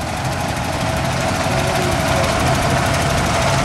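A vintage petrol paraffin tractor engine, an Alexander B type, runs steadily at an agricultural show arena, a loud continuous throbbing drone with no break.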